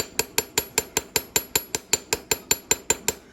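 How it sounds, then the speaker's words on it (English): A cross peen hammer strikes metal during fold forming to stretch it into a ruffle, delivering about sixteen sharp, evenly spaced blows in a quick steady rhythm, close and loud, with no talking. "now I'm going to turn my cross peen and hammer this way to stretch it and encourage it to ruffle"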